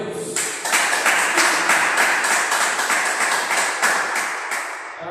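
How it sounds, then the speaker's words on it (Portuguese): Church congregation clapping together in a steady, fairly fast rhythm, loud and close, with distinct claps continuing throughout. "Palmas para o Senhor."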